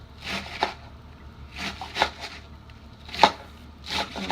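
A knife chops through cabbage on a cutting board in a kitchen, giving a few separated bursts of crisp, crunchy cuts at an unhurried rhythm, close and clear, with no talk.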